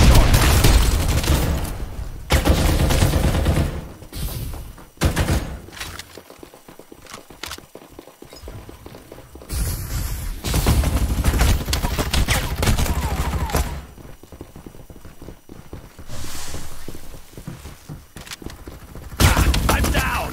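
Gunfire in the battle-royale video game Farlight 84 rattles out in dense, loud bursts of rapid shots, broken by short pauses, with voices talking over parts of the fight.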